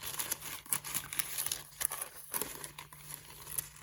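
Tissue paper wrapped around a coin purse inside a small Hermes box crinkles and rustles as it is unwrapped, with soft crumpling bursts and brief tears close by and no voices.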